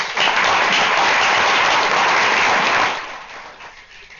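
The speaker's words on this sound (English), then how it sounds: "I'd like you to give a big hand to our fantastic panelists" A conference audience in Geneva gives the panelists a loud, dense round of applause that holds steady, then tapers off and dies away over the last second.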